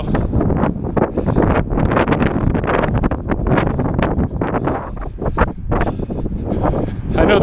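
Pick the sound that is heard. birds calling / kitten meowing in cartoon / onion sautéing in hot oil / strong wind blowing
strong wind blowing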